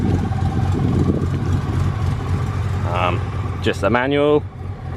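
A Holden VS Commodore ute with a lumpy cam idles with a low, uneven rumble that runs steadily under a voice, which briefly rises over it near the end.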